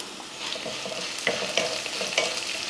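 Soft sizzling and frying of onions in a pan with a little turmeric, with occasional scraping stirs of a spatula, close and fairly quiet, no talking.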